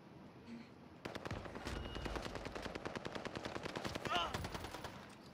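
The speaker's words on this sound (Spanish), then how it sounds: "Benito, sigue disparando." Sustained automatic gunfire in Call of Duty: Modern Warfare, a fast, steady stream of rattling shots that starts after a quiet second and continues to the end, fairly faint overall.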